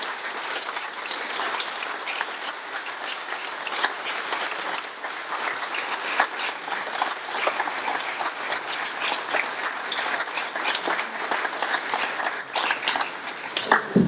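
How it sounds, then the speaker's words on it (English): Sustained applause from an audience giving a woman a standing ovation at a New York Q&A event, dense steady clapping throughout with no talk over it. "I think that we owe this woman a standing ovation."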